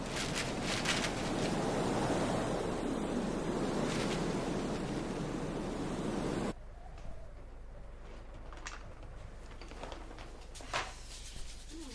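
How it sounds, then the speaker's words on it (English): Wind blowing outdoors on a windy day: a loud, steady rush of gusting wind buffets the microphone for several seconds, then cuts to a much quieter background with faint rustles and light thumps. "It's only the wind."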